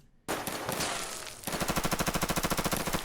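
Action-movie gunfire effect: one sharp blast, then a rapid, evenly spaced machine-gun burst of about fifteen loud, close shots, with no voices.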